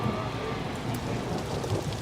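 Heavy pouring rain falls steadily and densely, a loud continuous wash across the whole stretch with no voices.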